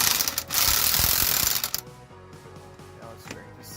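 A Mastercraft 8.5A corded impact wrench hammers loudly and steadily on a wheel bearing during a replacement, then stops after about a second and a half. Faint mechanical clicks and handling noises follow.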